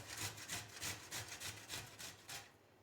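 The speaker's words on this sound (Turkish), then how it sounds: "Şöyle kökünden tutuyoruz ve çiçek kısmını rendeliyoruz." Cauliflower florets scraped against the coarse side of a box grater, holding the stem, give about eight rhythmic rasping strokes at a steady pace, close and moderately loud, with no one talking.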